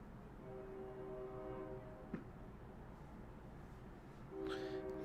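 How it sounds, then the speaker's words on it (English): Distant trains pass at night, with steady, drawn-out horn tones sounding from afar, fading briefly, then returning over a constant low rumble. "We're hearing a bunch of trains tonight."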